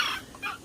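Chickens from a small backyard farm clucking briefly, a short burst of bright, close calls followed by a second fainter cluck, with no talking.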